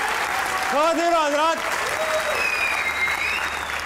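A studio audience at a Pakistani comedy talk show applauds loudly and steadily, while a host's voice speaks over the start of the clapping.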